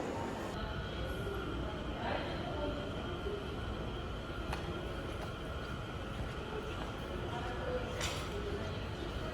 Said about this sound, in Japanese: 山形新幹線つばさ E3 系のお出ましです。